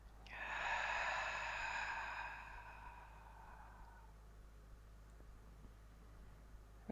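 A single long open-mouthed exhale, a steady breathy rush that swells quickly, holds for about two seconds and then fades away into quiet room tone during a guided yin yoga breathing exercise.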